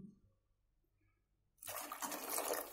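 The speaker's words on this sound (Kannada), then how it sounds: "ಇನ್ನೂ ಸ್ವಲ್ಪ ನೀರು ಹಾಕ್ಕೊಳ್ತೀನಿ." Water is poured into a pot of sambar with a sudden loud, close, gushing splash after a quiet start, continuing steadily to the end.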